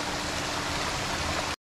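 A waterfall on a hill-station trek at Tikkar Tal, a constant broad rushing roar of falling water, loud and close, that cuts off abruptly at the end.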